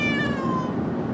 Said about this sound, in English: Do you like listening to my cat?